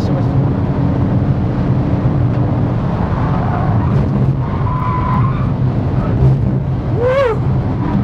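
A 2011 Porsche 911 Turbo S driven hard on a track, its engine droning loudly and continuously close by as the tires slide and squeal, with a sharp rising-and-falling screech near the end.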